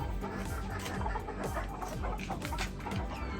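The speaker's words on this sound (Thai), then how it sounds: "ไก่กุ๊กกุ๊ก" Several chickens, including a satin-feathered and a frizzle-feathered bird among a backyard breeding flock, cluck repeatedly and steadily at close range under a dense, continuous layer of farmyard noise.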